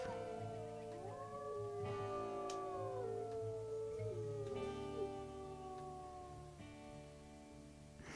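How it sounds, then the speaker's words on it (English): Wolves howl in the WolfQuest video game, several long gliding voices overlapping and rising and falling together over about eight seconds, close and fairly loud, with a steady low hum beneath. "Somebody trying to get a howl off."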